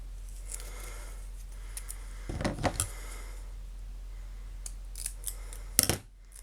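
Scissors make a few close, crisp snips at paper or card, with a cluster of cuts in the middle and another near the end over a quiet background hum.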